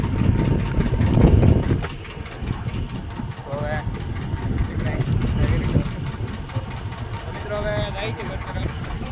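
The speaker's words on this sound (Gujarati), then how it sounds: "અમારી બોટ શરૂ થઈ ગઈ છે" A boat's engine chugs steadily at sea near an island temple, a continuous low drone carrying through the whole stretch while people talk over it.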